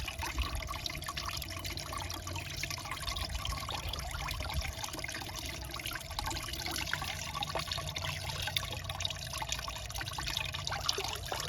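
Steady running water rinses dye off a disc, a continuous broadband splashing wash with no pauses, close and fairly even in level throughout.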